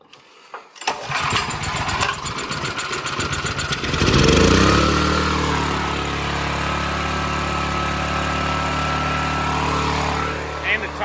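A small salvaged junk engine sputters to life after a few seconds of cranking, then settles into a loud, steady idle with a low throbbing drone.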